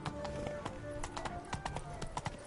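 Roach the horse's hooves clip-clopping in a rapid galloping rhythm in The Witcher 3, with someone talking and game sounds layered over it.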